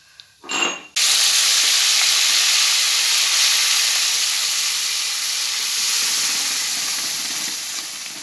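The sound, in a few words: mashed spinach added to sizzling cumin-mustard tempering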